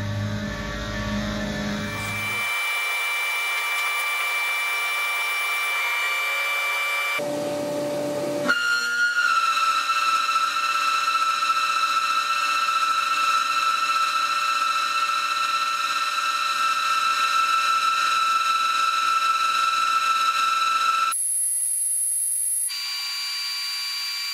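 A Tormach CNC mill cuts a heat-treated 4140 steel caliper bracket, producing sustained high-pitched whining tones with chatter. The sound shifts abruptly between sections as the spindle and cutting change, then the whine continues steadily.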